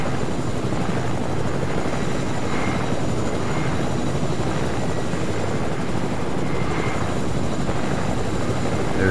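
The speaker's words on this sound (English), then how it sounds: "they just put a chopper back out here now." Helicopter in a video game match flying nearby, a steady, loud rotor and engine roar with pulsing blade thump that holds throughout without letup.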